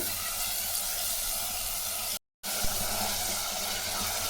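Tomatoes sauté in a pan for a quick kurma, giving a dense, continuous hiss of sizzling that cuts out for a moment, then resumes with a few soft knocks.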